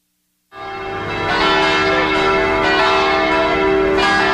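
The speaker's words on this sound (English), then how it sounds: "Church bells would toll to summon worshippers." A cast bronze church bell tolls once and keeps sounding, its loud, rich ringing hum holding steady and close with no voices over it.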